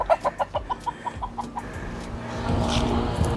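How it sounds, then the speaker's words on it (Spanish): Roosters tied up outdoors in Puerto Plata, Dominican Republic, give a quick run of about ten rhythmic clucks, then a steadier, louder stretch of crowing and fowl noise. "Me encontré esos gallos ahí amarrados"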